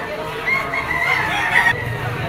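A bull stag rooster crows once at the Lipa auction market in the Philippines, a clear, drawn-out crow of about a second, close and loud over a low murmur of market noise.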